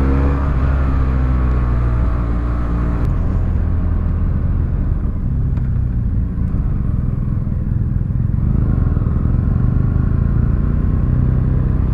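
A BMW F800 R motorcycle ridden on the road during a test ride, its engine droning loud and steady throughout with a broad rumble, with brief changes in tone where gears are shifted.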